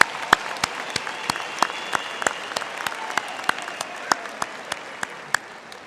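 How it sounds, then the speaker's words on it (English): Applause for the Dean at a university graduation ceremony: a hall full of people clapping steadily, with sharp individual claps standing out and the sound slowly fading. "I think we can give our Dean a warm hand of applause"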